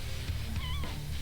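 A cat meows nearby, a short, fairly quiet cry with a rising and falling pitch, heard over low indoor background noise.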